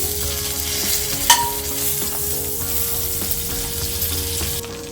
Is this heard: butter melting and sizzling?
yes